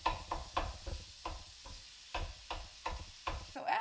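Garlic and onions cook in a pan for a Mexican casserole. A utensil scrapes and stirs in a steady rhythm of about ten close, distinct strokes over a soft sizzle, and no one speaks.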